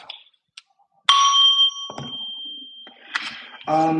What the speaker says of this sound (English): I'm gonna hit the bell again